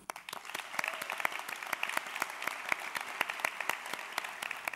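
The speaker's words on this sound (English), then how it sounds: "Let's give a big round of applause for all of our guests." Audience at a Yale-NUS College first-year assembly clapping in welcome, a dense round of applause with sharp individual claps throughout, fairly distant and steady for several seconds.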